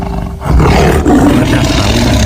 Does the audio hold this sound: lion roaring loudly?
yes